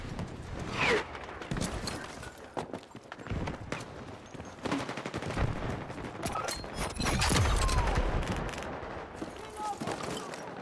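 Battlefield gunfire crackles in bursts throughout, with dense rapid volleys and scattered single shots, loud and busy; someone speaks over parts of it.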